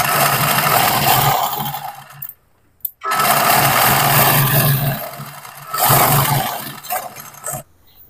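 A sewing machine stitches the seams of an Afghani salwar, running in loud close whirring bursts that stop briefly between runs and then start again.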